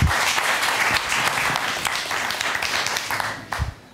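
Warm audience applause at a literary talk, loud sustained clapping from a seated crowd that carries throughout and fades slightly at the close.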